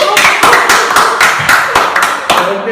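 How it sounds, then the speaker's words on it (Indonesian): A school hockey team claps together in a room, a loud, dense run of overlapping hand claps with a few stronger beats pulsing through, with no talk. "Tepuk tangan untuk kalian semua."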